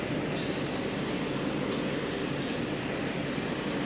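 A spray can hisses continuously while paint is applied to model Airbus A380 spoiler parts, a steady close rushing sound with brief dips in the upper hiss.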